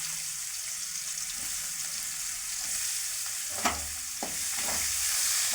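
Onions sautéing in hot oil for a lentil sambar, a steady bright sizzle with a few sharp stirring clinks and scrapes, close and continuous without any talk.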